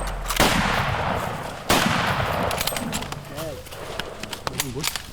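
A hunting rifle fires during an African big-game hunt, two loud sharp shots about a second apart ringing out over background noise, with voices talking nearby.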